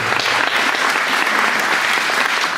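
Loud, close applause from the audience at a youth council and wellness meeting, dense and continuous with a few scattered voices in the crowd.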